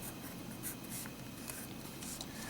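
A pen scratches steadily across paper while numbers are written down, a faint, close, continuous scribbling with small strokes and no voices.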